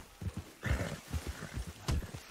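A horse in the video game Red Dead Redemption 2 gives off a quick run of close, soft hoof thuds and snorting breaths, with a louder burst near the end.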